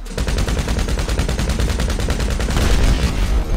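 Rapid automatic gunfire in GTA 5 firing tracer rounds, a dense, loud burst of evenly spaced shots that continues for several seconds without pause and without talking.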